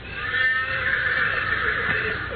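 A horse whinnies far off in an old western setting, a drawn-out, thin neigh running through the whole moment against low background rumble, with no talking over it.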